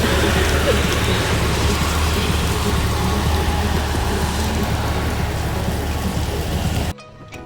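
Steady heavy rain falling during a motorcycle trip in Turkey, a dense continuous hiss that cuts off abruptly near the end.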